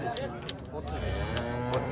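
Cattle low faintly at a busy livestock bazaar in Beshariq, Fergana, with a soft, drawn-out moo under background market noise.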